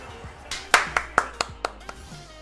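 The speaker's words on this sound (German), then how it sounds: "Da kann man klatschen, Chat." Several sharp hand claps in an uneven burst over light background talk and game sounds, fairly close and moderately loud.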